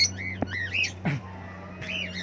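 A few harsh bird squawks, close and loud, coming in short bursts with brief pauses between them.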